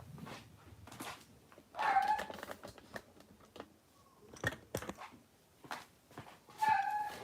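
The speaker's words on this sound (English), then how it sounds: "do you hear that barking?" A dog barks faintly from upstairs, a few scattered distant barks amid quiet room noise and light clicking.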